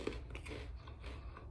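Crunchy Want Want Shelly Senbei rice cracker being chewed up close: a few quiet, crisp bites and crunches in a loose rhythm, with no talking over them.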